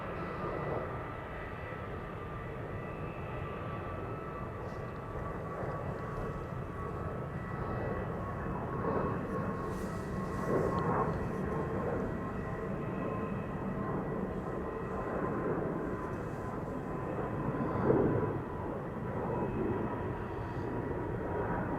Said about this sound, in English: taking off from center is a TUI 737. Max 8 to Fuerteventura.